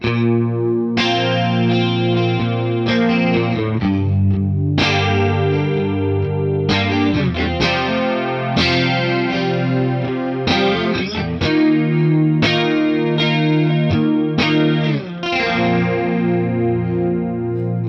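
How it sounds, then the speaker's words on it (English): Electric guitar chords ring out through a Boss Katana amplifier's DC-30 analog chorus effect, repeated strums with a warm, wavering, slightly doubled tone, loud and up close. "this is a really nice sounding analog chorus"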